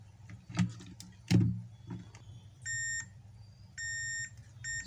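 A multimeter on continuity test, checking a circuit board for a short, gives two short steady beeps a couple of seconds apart, after a few soft clicks and taps of probes.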